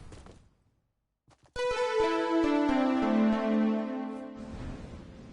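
Fortnite music blocks playing the opening of a song, a run of clear, bright tonal notes that sustain and step downward in pitch, heard alone after a short silence and then fading out.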